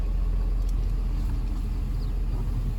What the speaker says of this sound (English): So now the truck is warming up.